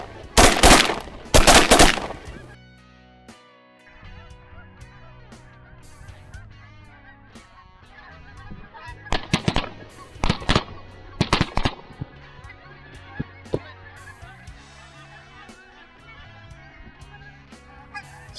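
Snow geese honk in a loud clamouring flock at a waterfowl hunt, with close bursts of shotgun fire at the start and again in the middle, and calls carrying on between the shots.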